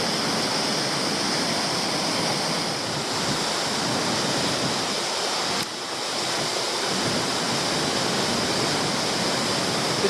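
Adamsons Falls in Tasmania thundering close by, a dense, steady roar of heavy falling water that fills the whole clip without a break.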